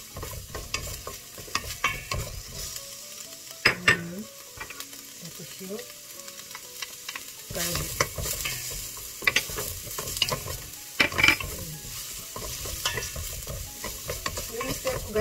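Onion frying in olive oil for Korean-Filipino spaghetti makes a soft crackling sizzle close by, with irregular scraping stir strokes and scattered clicks from the pan.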